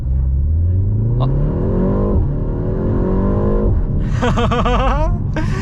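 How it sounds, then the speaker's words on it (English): A BMW M135 on sports suspension is pushed hard from a standstill, its engine note climbing steadily through the revs, dropping at a gear change, then surging higher again, loud and close from inside the car. "I can put my foot down and it will go."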